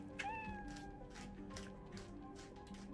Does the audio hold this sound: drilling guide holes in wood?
no